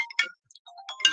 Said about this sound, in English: when the phone goes, isn't it funny? It breaks your concentration.